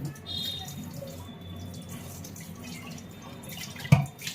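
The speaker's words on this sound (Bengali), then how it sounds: "সকালের চায়ের কাপটা ছিল সেগুলো ধুয়ে দিচ্ছি আর সকালে যে টিফিনটা করলাম সমস্ত বাসন ধুয়ে নিচ্ছি" Dishes and tea cups are washed under water at a small sink, with soft trickling and dripping and a single clunk of crockery near the end.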